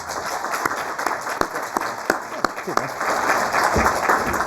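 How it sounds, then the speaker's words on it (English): A crowd applauds at a tech meetup event, dense continuous clapping with a few sharp, louder claps standing out near the front. "could you all give them a round of applause?"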